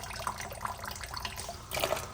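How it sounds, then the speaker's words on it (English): Water runs from an opened faucet in a steady close splash and hiss, growing slightly louder near the end as flow increases, with no talk. "So now if I open up the faucet again"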